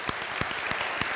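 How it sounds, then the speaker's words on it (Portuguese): Church congregation applauding in a large hall, a brief burst of hand claps with sharp distinct claps standing out over a dense wash of clapping. "Eu quero dar uma salva de palmas."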